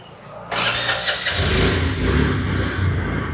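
A used motorbike's small engine cranks on the starter and catches, then runs with a loud, steady rattling idle close by.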